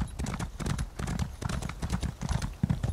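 Horse hooves clip-clop in steady rapid rhythm in the video game Elder Scrolls Online, loud and close, continuing throughout with faint voices beneath.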